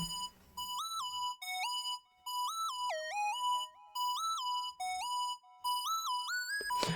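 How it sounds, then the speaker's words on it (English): A bright electronic pluggnb melody of short, bell-like synth notes plays alone in repeating phrases with brief pauses between them, automatically panning from left to right. "And now it'll pan from left to right automatically"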